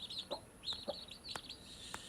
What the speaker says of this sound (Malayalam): കുറേ ദിവസത്തെ പരിശ്രമത്തിന് ശേഷം കോഴിക്കുഞ്ഞുങ്ങൾ വിരിഞ്ഞു കഴിഞ്ഞിരിക്കുന്നു.